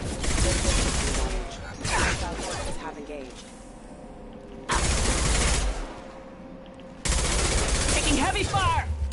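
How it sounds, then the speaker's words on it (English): Bursts of rapid gunfire in the video game Mass Effect 2 come in loud sustained volleys separated by short lulls, with a voice shouting over the shooting. "Taking heavy fire!"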